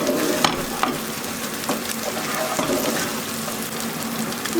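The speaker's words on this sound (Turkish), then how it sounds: "bir yemek kaşığını yakında domates salçası ilave ediyorum. Salçayla birlikte iyice dağıtıyorum." Tomato paste being sautéed in a hot pan and stirred with a spoon, a dense close sizzle overlaid with repeated scraping strokes, steady and fairly loud throughout, no voices.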